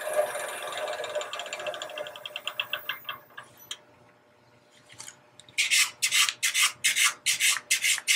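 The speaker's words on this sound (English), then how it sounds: "Do a little bit more sanding here to take care of some of the marks." Rhythmic hand sanding of wood, with a run of fast strokes, a short pause, then louder, broader back-and-forth strokes close by.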